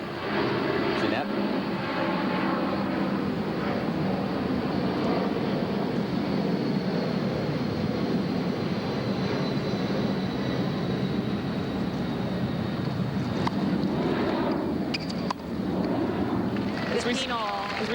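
A fixed-wing airplane passes overhead during a 1986 US Open semifinal tennis match, a loud, broad, continuous roar that fills the whole stretch, with crowd noise mixed in.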